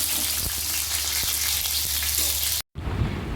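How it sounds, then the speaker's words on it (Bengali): Sajna (drumstick) stems frying in hot oil in a pan for a summer vegetable dish, a steady close sizzle with a few soft stirring knocks, cut off briefly near the end before resuming. "ডাটাটা আগে একটু ভেজে নেবো"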